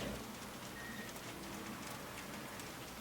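Rain falling in the open world of the video game Just Cause 3, a steady soft hiss of drops with faint bird cooing mixed in, continuous and even throughout with no talking.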